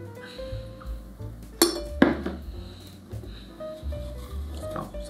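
Brewed Kenyan coffee swirled in a glass server, heard as irregular light clinks and knocks of glass and metal, with two sharper clinks near the middle over a quiet background.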